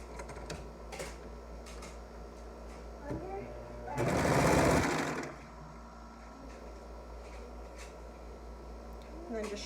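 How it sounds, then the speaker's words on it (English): A serger overlock machine stitches a neckband onto a knit cinch dress bodice in one loud whirring burst of about a second. Quieter handling clicks surround it, and someone speaks briefly. "So now I'm just going to serge it on."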